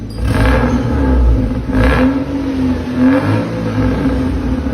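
A Nexia car engine at a muffler service shop idles and is revved several times in steady swells, loud and close, with no talking.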